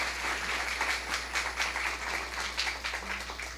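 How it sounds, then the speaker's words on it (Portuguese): Audience at a workplace safety week event gives the musicians another round of applause, a dense, even burst of many hands clapping throughout, over a low steady hum. "Uma salva de palmas novamente aos nossos músicos."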